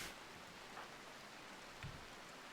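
Steady rain falls in the colony-building game Rimworld, a soft continuous hiss of moderate level with a couple of brief thumps and drips standing out briefly.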